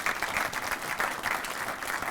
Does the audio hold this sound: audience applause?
yes